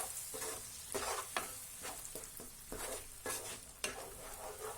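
Chili paste frying in oil in a pan for street-style tawa pulao, a steady close sizzle broken by repeated scraping stirs of a spatula, with no voices.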